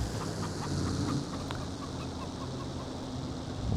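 Chickens cluck on a farm that also keeps sheep, with soft scattered calls over a steady low rumble of outdoor background noise and no one speaking.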